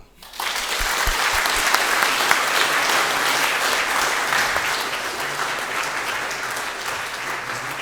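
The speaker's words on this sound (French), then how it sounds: "Est-ce qu'on peut encore les applaudir" Congregation applauding in church during a baptism service, a dense, sustained round of clapping that starts abruptly and stays loud and even for several seconds with no talk over it.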